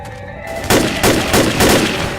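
Gunfire in Rainbow Six Siege: four loud, sharp shots in a quick, fairly even rhythm, each ending in a short echoing tail, with no talking.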